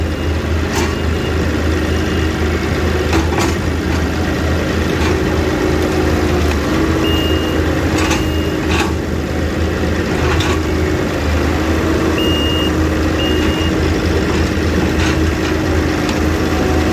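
A skid steer's engine runs steadily at a near, constant idle-like drone while clearing storm-damaged trees and stumps. A couple of brief faint tones rise over it, with no talking.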